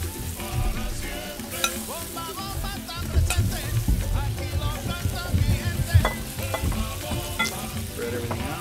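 Chorizo sizzles hard in a paella pan with continuous crackling fry and the scrape and clatter of stirring throughout, close and busy, with no talking.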